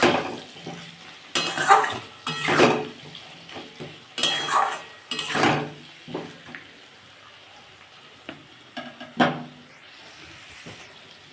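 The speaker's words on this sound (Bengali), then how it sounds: "এটাকে ভালো করে কষতে হবে যতক্ষণ না মাথা থেকে তেল বেরোয়" Spices with a little sugar stir-fried in a pan for a cauliflower pakoda curry, with repeated loud scraping and clattering of a spoon against the pan in bursts over a faint sizzle.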